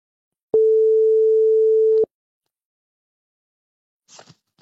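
A single long telephone ringback tone sounds for about a second and a half, loud and steady, while an apartment's owner is being called, followed by silence and a faint brief rustle.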